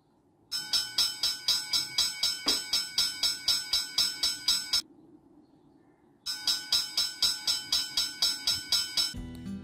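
Electronic bell chimes from a DFPlayer Pro audio module, a steady rapid string of bright metallic strikes that stops, pauses briefly, then resumes at the same even pace.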